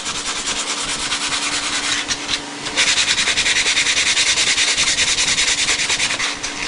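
Hand sanding with 320-grit sandpaper wrapped around a dowel or copper tube, working the edges of exhaust holes: a steady, close scratchy rubbing in repeated strokes, with no talk.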